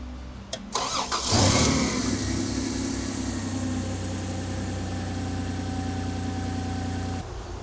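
A white Toyota Land Cruiser 80 Series FZJ80 engine cranks briefly, then catches and settles into a steady, loud idle heard up close.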